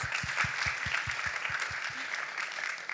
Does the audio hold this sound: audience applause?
yes